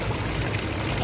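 Hot spring water flows steadily in Japan, a continuous hiss of rushing, trickling water that stays close and even throughout, with no voices.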